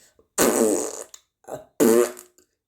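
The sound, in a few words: fart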